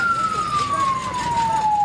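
An ambulance siren wails loudly and steadily, its tone sliding gradually downward as it moves away, over road noise at the scene of a bus crash on the Pantura road in Subang, West Java.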